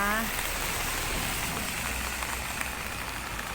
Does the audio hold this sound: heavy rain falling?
yes